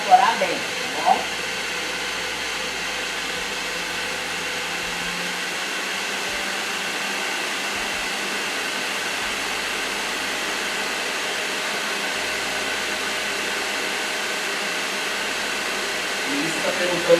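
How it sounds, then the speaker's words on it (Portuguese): An electric mixer beats cake batter with eggs, a steady whirring drone that holds evenly from start to finish, with a couple of brief knocks at the edges. "E aí deixa eu bater de novo até incorporar bem"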